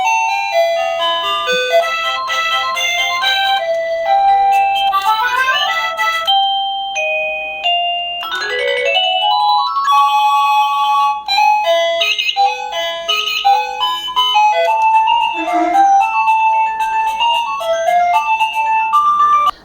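An Anchor wireless doorbell plays through several different electronic chime melodies in turn, bright tinkling note sequences that are loud and close, with no one speaking.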